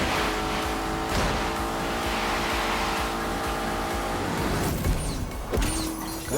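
A turbocharged Lamborghini with an automatic gearbox roars steadily under acceleration, a sustained loud engine drone with rising harmonic tones and a brief shift-like change near the end.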